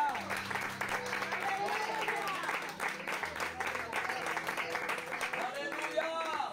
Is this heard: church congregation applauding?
yes